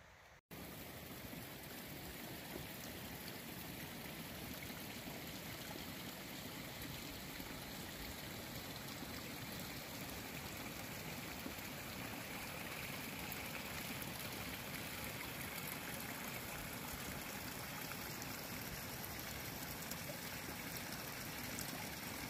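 Berkeley Creek on Mount Rainier flows steadily as a mountain stream, making a constant broadband rush and babble that stays even and unbroken throughout, with no voices.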